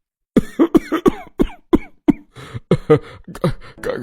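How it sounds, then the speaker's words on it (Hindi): An elderly man with asthma breaks into a severe coughing fit, a rapid run of harsh, close, loud coughs with strained breathy gasps between them. "छाती पर हाथ रखते हैं और अस्थमा की तेज खांसी शुरू हो जाती है"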